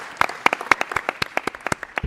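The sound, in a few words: audience applause at tourism commission meeting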